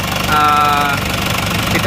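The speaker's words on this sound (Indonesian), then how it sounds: "Oke, mesin jadi semakin halus dan rata teman-teman ya." Isuzu Panther diesel engine with a newly installed thermostat runs at a steady, loud, even idle with a smooth rhythmic knock and constant hum throughout.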